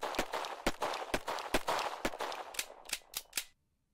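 Rapid gunfire rings out in a video game, about a dozen sharp shots in quick irregular bursts, close and punchy, ending abruptly into silence; no voices over the shots.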